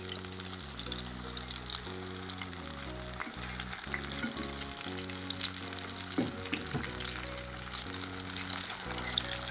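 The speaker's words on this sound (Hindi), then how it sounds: "दरमियानी आंच पे मैं बिल्कुल इसको फ्राई कर रहा हूँ" Thai-style fish pieces sizzle steadily in a pan of hot oil over medium heat, making a continuous crackling fry close up. A low music bed plays underneath and there is no talking.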